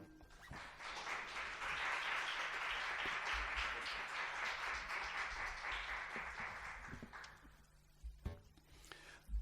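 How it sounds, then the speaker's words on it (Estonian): Concert audience applauding at a national anniversary celebration, a sustained, dense wash of clapping that swells early, holds steady for several seconds, then thins out near the end. "Aplaus Eesti laternatele."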